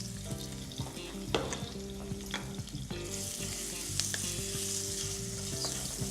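Garlic sizzles in hot oil in a pan, a steady close frying hiss with occasional stirring scrapes and small pops running throughout, under a low tonal background.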